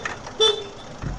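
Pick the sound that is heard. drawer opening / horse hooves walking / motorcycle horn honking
motorcycle horn honking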